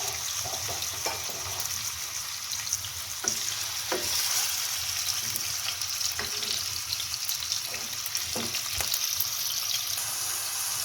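Marinated chicken frying in hot oil in a pan, a continuous, close hiss and sizzle with scattered pops and crackles running evenly throughout, with no voices.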